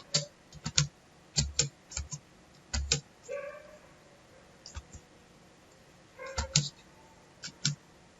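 Typing on a computer keyboard, close and clear, with irregular bursts of quick key clicks separated by short pauses, and a brief faint tone midway.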